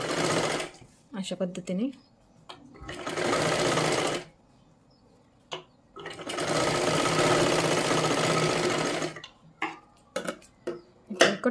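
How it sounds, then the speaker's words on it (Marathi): A sewing machine stitches around a curved blouse neckline in bursts, two long runs of steady mechanical whirring split by pauses, close up, with someone speaking briefly between them and handling sounds. "गोल आकारामध्ये आपल्याला शिलाई करत करत यायचं आहे वरच्या बाजूला"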